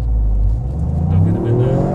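A Toyota GR Yaris launches hard from a standstill, its engine note climbing quickly in a loud, close, rising roar over a deep rumble.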